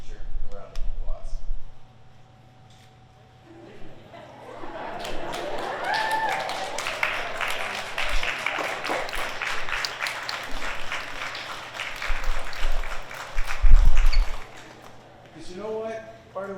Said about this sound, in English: give your teacher a round of applause